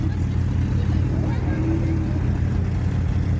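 Rally car number 42 approaching on a Franche-Comté rally stage, a steady loud engine drone holding throughout with a low rumbling roar as it draws near.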